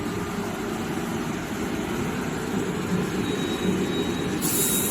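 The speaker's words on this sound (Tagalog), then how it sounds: "Maingay po yung aming compressor mga kaibigan." An air compressor in an auto workshop gives a steady, loud mechanical drone with broadband rumble and a constant hum, running continuously throughout without pauses.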